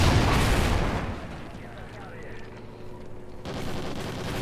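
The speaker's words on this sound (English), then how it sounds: "Oh, here gunshots." A loud burst of gunfire in Call of Duty: Ghosts opens, then the sound drops to a quieter rumbling backdrop before another noisy swell near the end.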